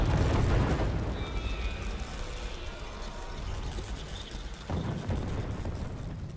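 Muffled booms and rumbling blasts from Call of Duty gameplay roll under a dark ambient bed, with a heavier low thud at the start and another swell near the end, fairly quiet overall.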